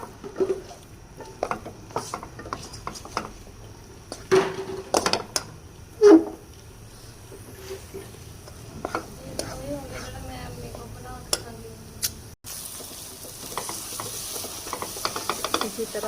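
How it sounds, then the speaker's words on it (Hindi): Gram flour roasting for besan halwa is stirred in a pan with scraping strokes over a low sizzle, broken by occasional knocks of the spoon. It carries on steadily at moderate loudness, and no one speaks. "तो इसे हम 2 से 3 मिनट तक अच्छे से भूनेंगे।"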